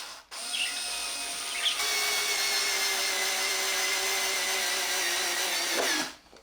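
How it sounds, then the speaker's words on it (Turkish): A small electric drill bores through cut tree branches, a steady high whine running nearly continuously for about five seconds at close range, with slight pitch shifts as the bit works through the wood. "10 adet kestiğim ağaç dallarını da şimdi küçük bir matkapla deleceğiz"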